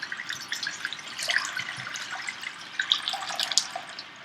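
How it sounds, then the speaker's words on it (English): About four cups of water pour into a shallow pan in a steady, close splashing stream with bubbling, trickling patter throughout. "I'm just going to take about 4 cups of water and pour it right in"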